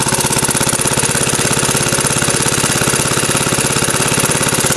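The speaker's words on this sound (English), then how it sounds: "So I did the valves and everything in this little engine." A small engine with freshly done valves, slightly overfilled with oil, runs on a Wells 6 volt power charger with a steady, rapid chugging idle, close and loud with no talk.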